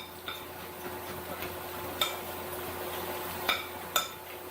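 Zucchini boat filling being stirred with a utensil in a bowl, giving soft scraping with a few sharp clinks against the dish, fairly quiet and close, no talking.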